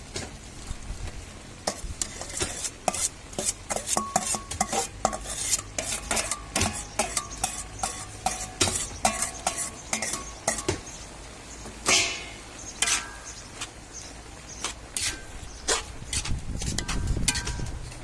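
Stir-fried vegetables tossed in a pan with soy sauce, spring onion and mushrooms: a spatula scrapes and clinks against the pan in quick irregular strokes over a soft sizzle, close and busy throughout, with no talk.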